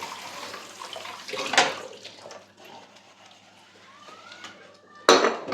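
Dishes being washed with dish soap at a home sink, with running water, clinking plates and cutlery, and two louder clattering bursts, close and without talking.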